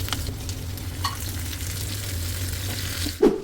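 An onion and tomato omelette fries in a pan with a steady, soft sizzle and low hum underneath, broken by a brief stir or scrape near the end.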